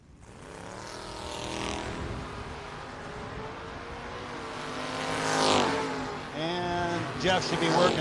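Drag racing cars at a No-Box 660 shootout, including a third-generation Camaro, roar down the strip with sustained engine drone and revving, rising to a loud pass near the middle and a burst of revs toward the end, with a commentator talking throughout.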